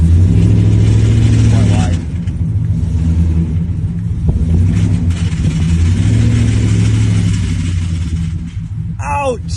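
A car with a failing automatic transmission is put in drive and accelerates through first gear, a loud steady engine rumble that rises and levels off, close by, with brief faint squeaks near the end.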